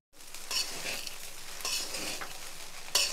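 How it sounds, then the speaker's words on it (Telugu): Vegetable fried rice is stirred hard in a pan over a high flame, giving a continuous loud sizzle. Several distinct scraping strokes of the ladle come through near the mic, and no one speaks. "ఏదైనా సరే ఫ్రైడ్ రైస్కి కొంచెం హై ఫ్లేమ్ మీద పెట్టి బాగా కలుపుకోవాలి"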